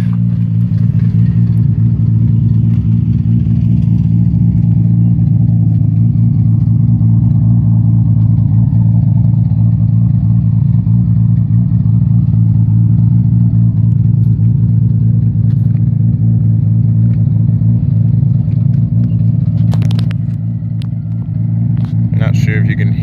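An engine idles at about 1000 rpm with its exhaust valve open, giving a loud, steady, deep rumble that holds unbroken throughout and dips slightly near the end.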